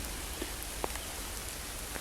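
Rain and hail falling on leaves in a wood in Kent, a steady soft patter of drops with a few sharper individual hits, quiet and continuous with no voices.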